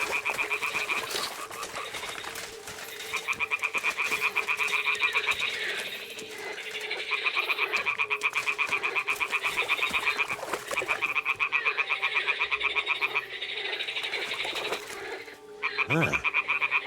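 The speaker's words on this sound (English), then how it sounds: "Ah, the toads are croaking here." Toads croak in a swamp in Kingdom Come: Deliverance II, a dense, continuous chorus of rhythmic rasping calls with a few brief clicks and knocks mixed in.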